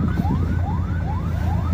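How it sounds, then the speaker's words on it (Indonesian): An ambulance siren wails in a rising, repeating sweep, steady and fairly loud, while the ambulance is stuck in heavy evening traffic. "Ini ada ambulan nih, nggak bisa jalan tuh, kejebak karunya."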